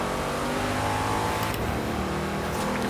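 A BMW's engine in the racing game Forza Horizon 3 drones loudly and steadily, holding a sustained revving tone with a brief rise midway.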